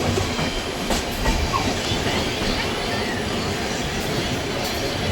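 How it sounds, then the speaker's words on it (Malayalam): A train arriving at Kollam railway station in Kerala, India, rumbles steadily with a rhythmic clickety-clack of wheels on rails, close and continuous. "ട്രെയിൻ ഇപ്പോൾ കൊല്ലം റെയിൽവേ സ്റ്റേഷനിലേക്ക് എത്തിക്കൊണ്ടിരിക്കുകയാണ്"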